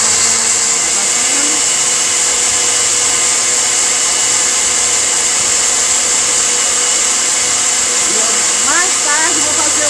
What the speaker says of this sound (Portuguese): vamos bater esses ovos aí junto com o resto do meu creme aqui